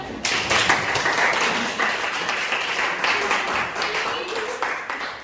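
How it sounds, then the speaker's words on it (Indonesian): A classroom of students clapping for a group, a sustained burst of fairly loud, dense hand claps lasting the whole span with a little voice mixed in. "untuk kelompok 1 tepuk tangan."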